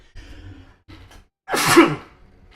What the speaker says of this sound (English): excuse the major sneeze there